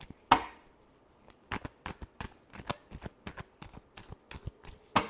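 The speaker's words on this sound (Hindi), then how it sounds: "last shuffle" Tarot cards are shuffled close to the mic in a quiet room. The riffles come as a series of short, crisp bursts in an uneven rhythm, with brief pauses between them.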